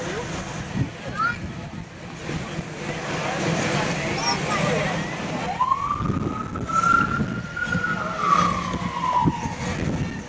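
A car rolls past along a small-town 4th of July parade route, its engine and tires rising and fading amid crowd chatter, with a siren-like tone sweeping through midway.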